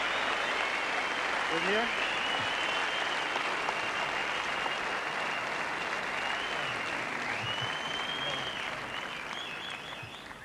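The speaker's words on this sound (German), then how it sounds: "man weiß gar nicht, wer jetzt am meisten klatscht" A television studio audience on the German show Wetten, dass..? applauds steadily and loudly for the full stretch, a dense sustained wash of clapping that fades slightly toward the end, with a voice speaking briefly over it.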